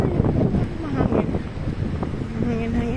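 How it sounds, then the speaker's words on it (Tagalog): Strong wind at Dubai Mall buffets the microphone with a constant rumbling roar, while voices talk underneath. "Mahangin-hangin."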